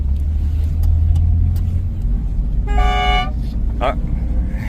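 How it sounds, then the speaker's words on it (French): A two-tone horn on a 1965 Citroën DS 19 Pallas honks once, loud and close, over steady engine rumble and road noise, followed by a shorter fainter beep. "Ah, klaxon. Klaxon double ton."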